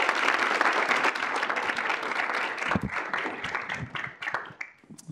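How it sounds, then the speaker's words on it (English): An audience at a K-State student involvement meeting breaks into a loud burst of clapping that gradually thins and fades out toward the end. "Can we give Madeline a round of applause?"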